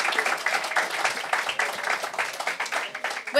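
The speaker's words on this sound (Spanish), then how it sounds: "Fuerte aplauso para comenzar el show," An audience bursts into steady applause at the start of a comedy show, dense rhythmic clapping at moderate volume, continuous and unbroken throughout.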